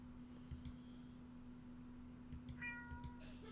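A cat meows from inside a big cardboard box at the end of an alley, a few short faint mews followed by a longer rising meow, over a quiet steady hum.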